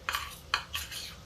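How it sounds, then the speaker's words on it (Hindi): Homemade cream (malai) is beaten in a bowl with a utensil for a pointed gourd (parwal) curry, giving three or four quick, close scraping strokes against the dish. "ये देखिए मलाई निकाला घर की, इसको हम फेंट लेते हैं।"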